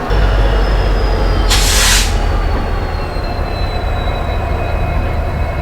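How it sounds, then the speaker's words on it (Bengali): The 12222 Howrah Pune Duronto Express pulls out of Howrah at dawn with a loud, steady low rail rumble, a brief hissing burst near the start and no voices. "আমাদের ট্রেন ফাইনালি ছাড়লো হচ্ছে হাওড়া থেকে পুনের উদ্দেশ্যে"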